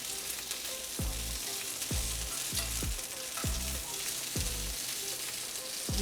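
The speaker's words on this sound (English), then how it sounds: "put some drops of ghee, apply some ghee so that, and then put our skewers" Paneer tikka skewers sizzling on a street-food grill brushed with ghee, a constant hiss of frying broken by a series of sharp bursts as ghee hits the hot surface, close and fairly loud.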